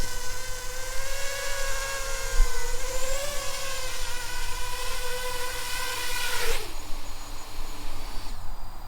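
An AM32-driven ArduPilot drone's motors whine in layered rising tones as it lands, holding a steady pitch and then dropping away sharply near the end, fairly clear with no talking.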